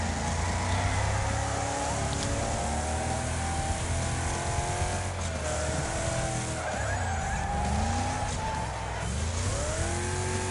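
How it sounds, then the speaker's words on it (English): Squeaking car brakes and tire squeal in a PS5 driving video game, over a continuous engine drone with shifting pitched squeals throughout, loud and steady with no talk. "Well, they were working. They're squeaking again."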